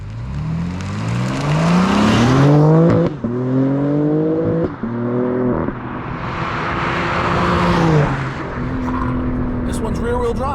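BMW M3 Competition with the S58 engine, rear-wheel drive, accelerating hard through several gear changes, a loud near exhaust note rising in pitch with shifts, with people talking over it.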